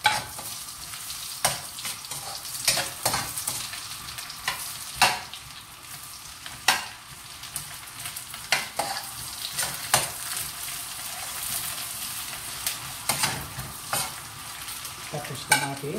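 Garlic sautés in a hot pan, a steady close sizzle broken by frequent sharp stirring scrapes and clicks at an irregular pace.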